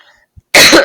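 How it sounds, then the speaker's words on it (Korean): A single sharp, loud cough bursts out close to the microphone after a brief quiet pause, with a short throaty rasp. "기침이 터졌네."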